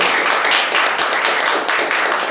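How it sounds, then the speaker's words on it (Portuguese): A church congregation applauds during a worship service with thick, continuous clapping that fills the room at an even loudness for about two seconds. "Aplausos a ele, então."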